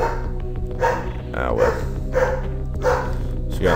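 A dog barks repeatedly in the background, several bursts spread through the clip beneath a video game's music and sound effects, while a person talks briefly.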